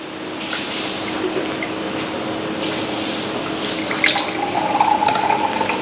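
Chilled coconut water streams steadily from the tap of a hygienic street-vendor cart into a container, a constant close liquid rush with faint splashing and a rising trickle toward the end.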